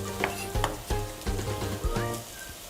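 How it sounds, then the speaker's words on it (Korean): Korean fish cake stir-fries with garlic in a pan over low heat, producing a close, crackling sizzle punctuated by rhythmic spatula scrapes and taps roughly every half second. "이렇게 되면은 마늘 향이 올라왔죠? 이때 어묵을 넣는 거예요"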